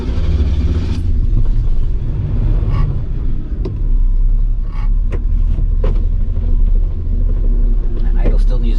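An RV engine idles low during a drive-to-town project, giving a loud, steady rumble and deep drone throughout, with faint rattles and clicks over the top.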